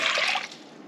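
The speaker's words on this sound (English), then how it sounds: "now I'm going to add 6 cups of water" Water pours steadily into a cooking pot as six cups are added for mushroom tea, a loud splashing rush that eases into a softer trickle near the end.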